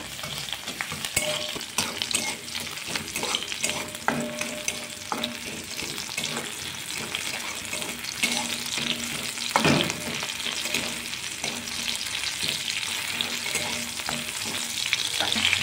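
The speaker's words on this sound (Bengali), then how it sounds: "প্রথমে কড়াইয়ে আমি তেল দেব, তারপরে দেব কালো জিরে, তারপরে দেব রসুন, তারপরে দেব কাঁচা লঙ্কা, ফোড়ন দিলাম।" Black cumin, garlic and green chili fry in oil in a wok, a continuous close crackling sizzle with frequent scraping stirs and clatters of a spatula against the metal, steady and fairly loud with no talking.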